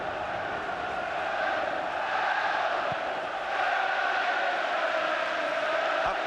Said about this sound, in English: Just listen to those Leeds fans now